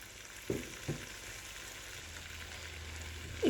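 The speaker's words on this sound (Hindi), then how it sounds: "आलू मैं इसमें डाल दूंगी" Steady frying sizzle fills the background, broken by a few soft thuds and clatters as potato pieces drop into a pot for aloo gosht.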